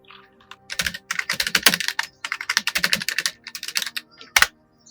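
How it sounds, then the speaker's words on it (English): Computer keyboard being typed on to enter a terminal command: bursts of quick, close key clicks in uneven runs, with a few brief pauses and a sharp final keystroke, no talking. "type the command sudo apt install VLC"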